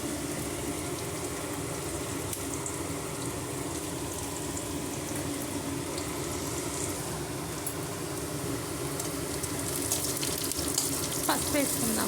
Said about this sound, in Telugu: ఈ బీరకాయలో వాటర్ వేసుకుందామండి.